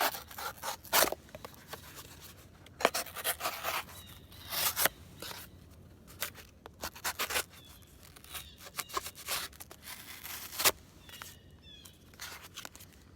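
Giant Mouse GMF2 fixed blade knife slicing into floppy cardboard, a series of sharp scraping cuts and crisp tearing strokes with quiet pauses between them, close and moderately loud.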